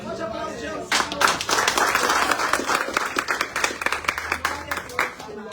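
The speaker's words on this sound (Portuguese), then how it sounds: "Pode aplaudir o Senhor." A congregation applauds during a church service, dense clapping starting suddenly after about a second and holding steady and loud to the end, with voices mixed in underneath.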